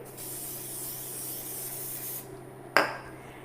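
A continuous hissing spray from a cooking oil aerosol can lasts about two seconds, followed by a short sharp scrape.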